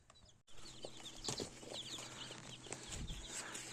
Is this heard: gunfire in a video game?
no